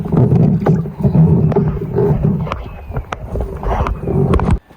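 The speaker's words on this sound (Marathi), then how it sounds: "टेली मोटर चालू केली आणि तुम्ही आवाज ऐकू शकता" On a farm, a water pump motor runs loud and close with a steady low humming drone. Scattered clicks and knocks sound over it before it cuts off abruptly near the end.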